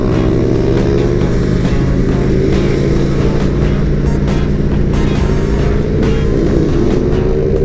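A motorcycle engine drones steadily and loudly during wheelies on a ride, a continuous close hum with shifting pitch and no speech over it.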